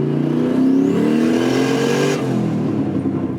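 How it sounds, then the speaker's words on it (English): A Volvo with a freshly rebuilt Ford 8.8 solid axle, new ring and pinion, and a 650-horsepower engine drives along, its engine droning steadily and rising in pitch, a loud, smooth in-car rumble throughout. "the Volvo is driving, and it's the smoothest, the quietest, the awesomest it's ever driven"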